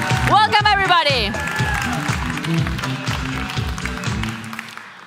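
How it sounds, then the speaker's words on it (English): A seminar audience gives a round of applause, a dense crowd clapping that swells as a voice speaks briefly over its start, then continues alone and slowly fades. "Give yourself a big round of applause."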